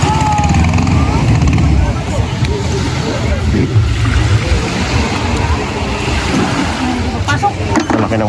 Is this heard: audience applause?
no